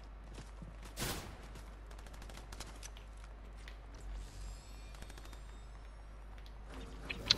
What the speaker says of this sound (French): Ouais, il me tire dessus.